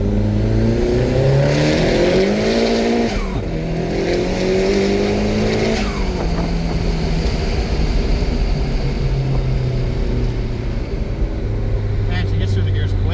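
Nissan S15 Silvia with a 396 hp SR20 turbo engine accelerating hard and losing traction, a loud continuous rising engine roar that climbs through gear changes, with tire noise and voices talking over it.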